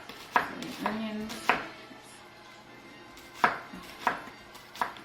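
Knife slicing through an onion on a cutting board, a few sharp crisp chops spaced irregularly, close and moderately loud, with a brief soft tonal sound between the first cuts.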